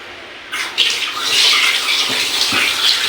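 Tap water gushes steadily into a sink after a brief quiet start while food is washed, a bright continuous splash with slight surges, close and alone.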